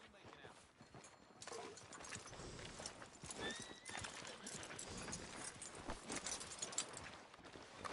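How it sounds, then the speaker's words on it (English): Horse hooves clip-clopping in Red Dead Redemption 2, a steady close rhythm of hoofbeats with occasional tack jingle, heard under a busy game soundscape. "Are you gonna mount that new horse of yours or not?"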